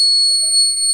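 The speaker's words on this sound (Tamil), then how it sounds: "அலாரம் பாருங்கள், அலாரம் அடிக்குது" A homemade door alarm rings out with a loud, steady, high electronic tone that holds unbroken for the whole second, close and clear with no talk.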